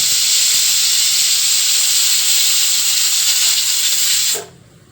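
A pressure cooker cooking broken-wheat pulao with field beans lets out a loud, continuous steam whistle-hiss for about four seconds, then cuts off abruptly into near quiet.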